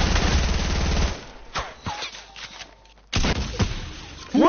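Enemy gunfire in a PS4 shooter, a loud stretch of rapid automatic shots at the start and another burst near the end, with quieter game sounds and brief noises between them.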